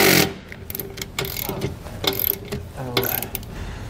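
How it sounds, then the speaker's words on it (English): Ratchet fitted with a 9/16 socket driving a self-tapping screw into a hole on a 2021 Coachmen Apex Ultra-Lite trailer during a shock absorber bracket install, giving several short bursts of close, loud clicking with pauses between strokes. "We're gonna use a 9/16 socket to run it up to make its own threads."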